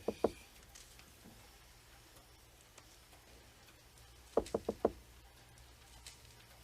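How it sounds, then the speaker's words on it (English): Knocking on an office door in a 1989 soap opera scene: a quick double knock, then after a pause a louder burst of four raps, moderately close, with a quiet room otherwise. "Let's just wait and see if the knocking noise goes away by itself."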